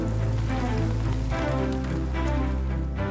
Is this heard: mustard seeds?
no